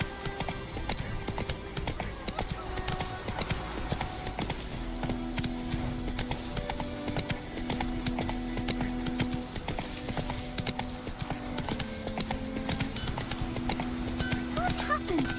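Hooves of Roach, the horse in The Witcher video game, clip-clop in a steady galloping rhythm throughout, with a voice talking over the gallop.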